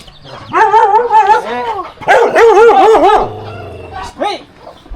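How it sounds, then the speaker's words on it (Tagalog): A dog barks and yelps in several loud, close bursts with short gaps between them, ending with one brief yip. "Sumisugod yung aso."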